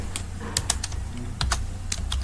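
Keys on a computer keyboard clatter in short, uneven bursts as code is typed, close up and fairly quiet, with no one speaking.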